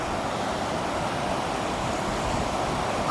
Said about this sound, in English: That is really flowing.